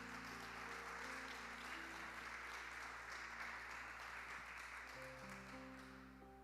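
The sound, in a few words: church congregation applauding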